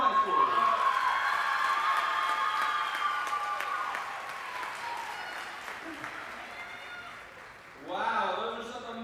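An audience at a Teacher of the Year ceremony gives a sustained round of applause, dense clapping filling the room for several seconds before a voice starts speaking near the end.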